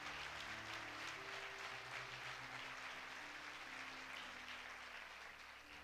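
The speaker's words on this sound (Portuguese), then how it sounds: "Então dá um aplauso ao Senhor Jesus." A Sunday church congregation applauds softly and at a distance while held musical tones, likely keyboard or organ, sustain underneath; the clapping stays even and gradually fades toward the end.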